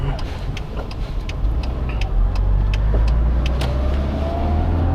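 A small Daihatsu Cuore Avanzato TR-XX pootling along at low speed in fourth gear through a village, giving a steady close engine and road drone with light ticks and a faint rising whine.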